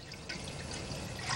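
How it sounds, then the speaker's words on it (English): Chicken stock poured into a pot of water for homemade chicken soup, a brief steady liquid splashing and dripping close by, with no talking. "We're going to add some chicken stock"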